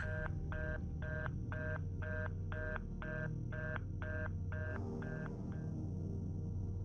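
Telephone keypad tones: about a dozen evenly spaced, identical beeps in a steady rhythm over a low hum, ending in a quieter stretch.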